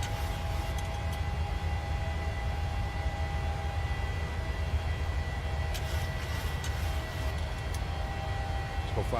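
Steady, loud airliner jet engine roar at climb power inside Microsoft Flight Simulator, a constant rumbling drone with a faint tonal whine running throughout and a few light clicks.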